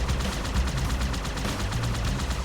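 Rapid automatic gunfire in the Halo 2 video game, a dense, continuous burst of evenly spaced shots sustained throughout at moderate loudness, no voices.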